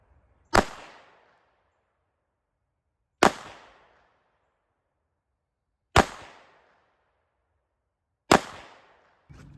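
A Taurus TX22C pistol fires at a target from 5 yards, four sharp, loud, separate shots spaced a few seconds apart, each ringing briefly into quiet, with a fifth beginning at the very end.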